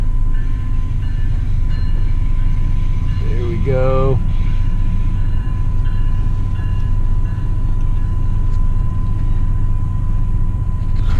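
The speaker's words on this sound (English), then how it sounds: "Oh, it's pulling out of the station." A train pulls out of a station and over a crossing, heard from a waiting car: a steady low rumble with a faint constant whine, a brief rising warble, and a person speaking briefly.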